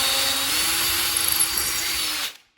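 Power drill boring through sheetrock, a steady high whine held for about two seconds before stopping abruptly, close and loud with no talking.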